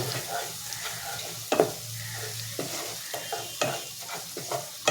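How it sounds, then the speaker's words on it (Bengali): Masala paste for a split-egg curry fries in a pan. It makes a soft, low sizzle, and sharp scraping strokes and clacks from the stirring utensil recur every second or so. "একটু বাড়িয়ে দেব যাতে মশলাটা একটু ভাজা ভাজা হয়"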